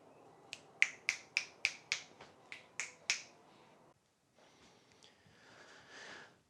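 About ten sharp, close finger snaps in a quick, slightly uneven run, followed by a few seconds of quiet shuffling.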